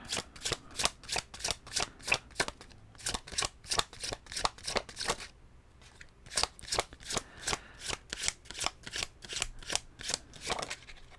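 Tarot cards shuffled by hand, a series of crisp, rhythmic riffling bursts close up, broken by one short pause before the steady shuffling resumes, with no talking.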